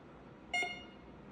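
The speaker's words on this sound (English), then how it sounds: "Let's just see how close we can get before the metal detector detects it." A GTX 5030 metal detector held about five inches from a wheat penny gives a short electronic tone, then a second one begins about three quarters of a second later, both quiet and close.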